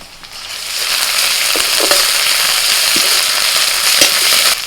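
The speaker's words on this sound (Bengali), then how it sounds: "পেঁয়াজটা একটু ভাজা ভাজা করে নিয়ে দিয়ে দিচ্ছি আদা রসুন বাটাটা" Ginger-garlic paste and onions frying in mustard oil in a wok: a quiet start swells into a loud, steady sizzle, with occasional stirring scrapes and crackles close by.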